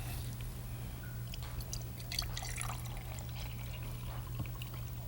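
Water is poured into a glass holding a cork, making a faint, soft trickling and splashing over a low steady hum, with no talk.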